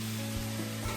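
Manchurian balls frying in hot oil, heard as a steady close sizzle over a constant low electrical hum, with no one talking.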